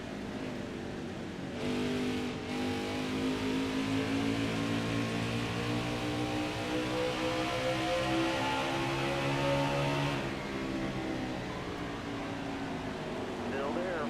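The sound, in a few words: race car engine in video game NASCAR Heat 5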